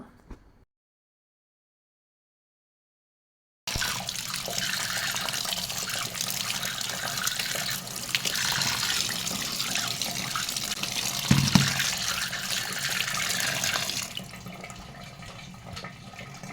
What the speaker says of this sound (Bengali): এই নুডলস নিয়ে ভালো করে ঠান্ডা পানি দিয়ে ধুয়ে নেব